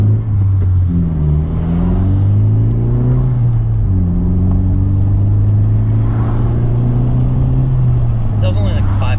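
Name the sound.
2020 Honda Civic Si turbo engine accelerating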